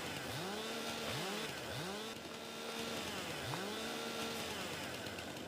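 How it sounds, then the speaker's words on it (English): A chainsaw cutting fir trees in the video game Farming Simulator 22 gives repeated rising engine revs in short bursts, several overlapping pulls over a steady whine, with no talking. "I do wish the chainsaw sounded more realistic, though."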